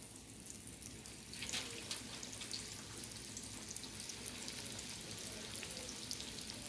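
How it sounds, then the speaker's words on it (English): Steady hiss and crackle of chicken croquettes frying in hot oil on medium heat, continuous and fairly quiet, with occasional sharper pops. "now our next step is going to be Frying them."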